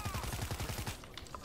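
Rapid automatic gunfire bursts in the zombie shooter World War Z, a quick loud string of shots for about a second before trailing into game noise.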